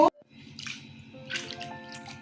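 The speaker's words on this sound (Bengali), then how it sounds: "মশলা কষানো হয়ে গেছে জল দিয়ে দিচ্ছি আর একটু জল দেব" Water is poured into a pan of cooked-down spices for a jackfruit-seed dhoka curry. A brief sharp clatter is followed by a soft bubbling, hissing gurgle close by, with scattered splashy bursts and no one talking.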